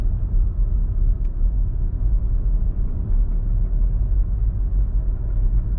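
A 2009 Nissan Versa, fresh from a coil pack replacement after misfires, runs with a steady, even low engine rumble from inside the car while driving, loud and unbroken with no stumbles, and no voices.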